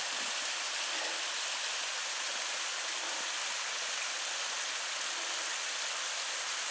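A mountain stream rushes beside an old gold mine adit near Zieleniec, a steady, close hiss of flowing water with no pauses and no voices.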